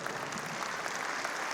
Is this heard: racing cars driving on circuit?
no